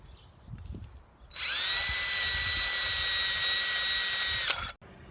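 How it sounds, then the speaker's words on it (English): A power drill spins a rat tail file to elongate carburetor holes, giving a loud steady whine that starts abruptly after a quiet lead-in and holds for about three seconds before cutting off. "Rat tail file in the drill."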